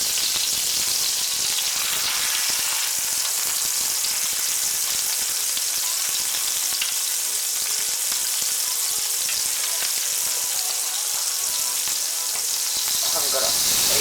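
Crumbed pork chops fry in a pan over medium-high heat, making a dense, even, crackling sizzle that holds steady and close throughout, with faint clicks and spatters on top.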